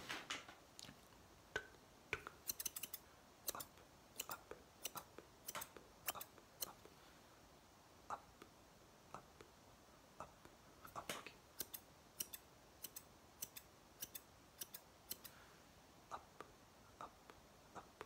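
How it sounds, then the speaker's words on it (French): Quiet, crisp snips of scissors, scattered irregularly over a soft hiss, close by with brief pauses between clusters of cuts. "On va commencer avec mes ciseaux noirs à faire une petite coupe du futur."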